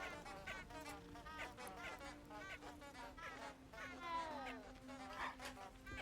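A cat in Hogwarts Legacy meows over and over in short rising and falling calls, soft and a little distant, over a steady low hum and faint background chatter.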